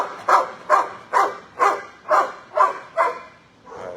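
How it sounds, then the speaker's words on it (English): A single dog in an animal shelter barking repeatedly, about seven evenly spaced sharp barks close by, loud and insistent, ending with a softer drawn-out yelp, no talk over it. "We got to get away from this barky one over here. Making a ruckus, making a racket."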